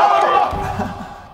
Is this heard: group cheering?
yes